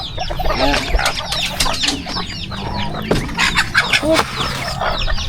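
Several chickens, hens and a rooster, cluck busily nearby, a steady jumble of short clucks and calls with some rustling and background noise.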